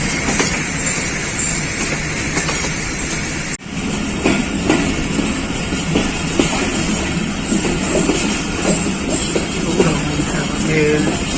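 A Pakistan Railways Khyber Mail passenger train rolls along in a steady, busy rumble with faint rhythmic clatter, interrupted by one brief dip, while some speech-like sounds mix in.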